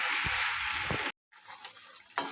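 Greens frying in a pan with salt and turmeric, a dense hissing sizzle with a couple of stirring scrapes, cut by a brief silent break before quieter sizzling and a final scrape.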